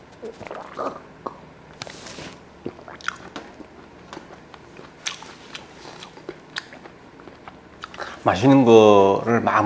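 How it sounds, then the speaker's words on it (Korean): Someone eats a Korean oyster pancake (gul-jeon) made with wild rock oysters, giving close, soft bites and moist chewing in scattered bursts, followed by a louder stretch of talking near the end. "벚꿀 먹다가 지쳐가지고 굴전 먹어볼게요."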